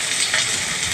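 Chopped onion, ginger, garlic and green chilli sizzle in a hot pan, giving a brief, even, dense hiss held close and steady, with no talking.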